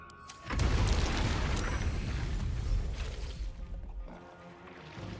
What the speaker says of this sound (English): Well, that was a big explosion.